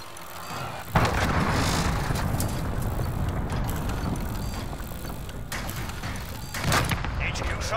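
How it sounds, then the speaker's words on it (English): An enemy cruise missile blast in a military video game opens with a sudden loud impact. A long, heavy rumbling roar follows and slowly fades over several seconds, with a second swell near the end and voices talking faintly underneath. "Enemy cruise missile!"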